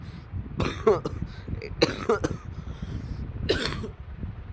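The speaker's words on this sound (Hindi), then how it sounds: "माफ करना दोस्तों खांसी आ गई थी" Several close coughs come in quick clusters, three separate fits over a few seconds, against a quiet room background.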